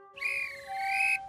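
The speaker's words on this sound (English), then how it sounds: "the guard's whistle sounded." A train guard's whistle gives one sustained, shrill tone lasting just over a second, clear and moderately close, with no voices over it.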